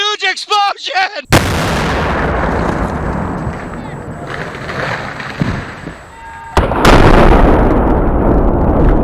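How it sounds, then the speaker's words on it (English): A huge outdoor explosion set off with explosives in Montana woods to blow apart wood for firewood: a sudden, massive boom follows brief voices, then a long rumbling roar, with a second sharp blast near the end. "That was a huge explosion!"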